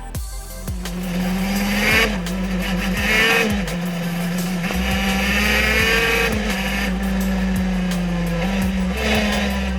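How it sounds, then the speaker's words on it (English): A racing car engine revs and drops repeatedly, whining loudly through several gear changes, close and continuous with no talking. "this could seem the normal sound of a racing engine"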